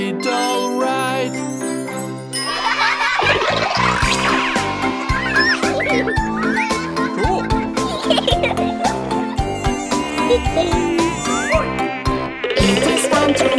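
A high, whining mosquito buzz plays as an effect in a children's song about a mosquito bite, weaving loudly through bright, busy music with bell-like tinkles.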